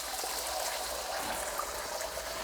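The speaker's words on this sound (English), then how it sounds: "I'm gonna pour our eggs in there." Beaten eggs poured into a smoking-hot oiled pan, giving a steady, fairly quiet sizzle and hiss throughout, with no voice over it.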